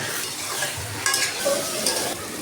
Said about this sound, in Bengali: এখন আমি বেগুনগুলো সুন্দর করে কষিয়ে নেব।